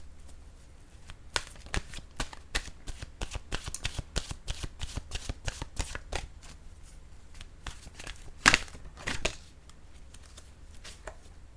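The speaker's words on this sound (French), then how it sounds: "Je vais piger une carte de mon oracle de l'âme intuitive." A deck of intuitive-soul oracle cards is shuffled by hand, a long run of quick, soft riffling flicks in steady rhythm, close and quiet, with one sharper snap near the end as a card is drawn.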